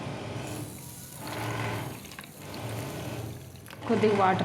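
Water poured into sugar in a pan to start a simple no-cook sugar syrup for a bread sweet, a soft trickling pour near the mic that swells near the end.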